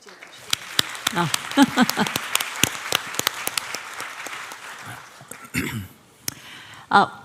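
Scattered clapping from a conference audience at the REAIM Summit 2024 opening session, sharp individual claps building into sparse applause, with a few voices speaking briefly near the end.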